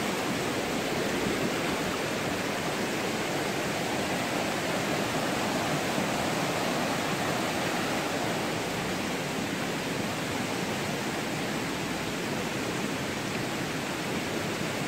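Swollen, muddy river surging after rain, a dense and steady broadband rush that stays even from start to finish with no voices over it.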